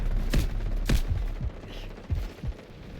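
Gunfire in the video game Delta Force: a string of sharp shots in short bursts, some single cracks and some paired, loud and close over a steady low rumble, with no talking.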